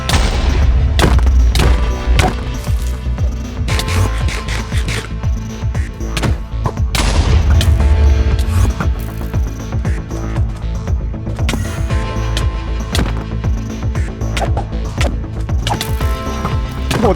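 Loud, dense video game gunfire during a competitive rematch match, with rapid bursts, booming shots and heavy thuds layered over continuous action noise throughout, no talk.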